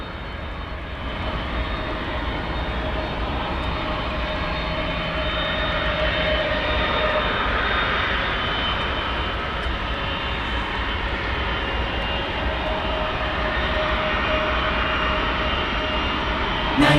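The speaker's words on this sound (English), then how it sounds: "You're looking at Flight 751 UPS going to Louisville." A 31-year-old UPS Boeing 757 jet at DFW airport, bound for Louisville, gives off a steady, loud engine roar that holds for the full span with no talk.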